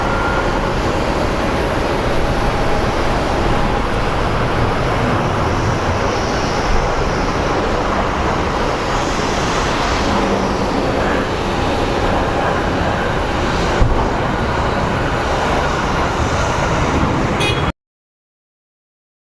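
Aircraft at Sky Harbor International Airport in Phoenix, with a continuous loud, broad jet roar and rumble holding steady for about seventeen seconds before cutting off, with no talking.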